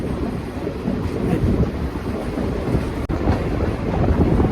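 Steam excursion train with locomotives 765 and 358 rolling along, a steady loud rumble with heavy wind buffeting throughout and one brief dropout near the end.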